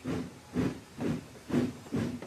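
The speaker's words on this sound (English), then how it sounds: ""Passengers and freight do not mix," huffed Gordon, and he wheeshed away." Steam locomotive hissing as it pulls away, five regular bursts of steam in an even rhythm, fairly loud and close, with no voices.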